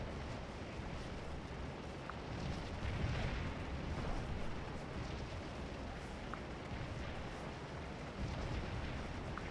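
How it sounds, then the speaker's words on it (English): Continuous roar of distant artillery fire across a Civil War battlefield in the strategy game Scourge of War: Antietam, a steady rumbling wash of booms with a few louder swells, no voices over it. "The problem is all that damn artillery."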